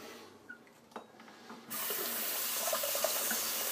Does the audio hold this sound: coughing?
no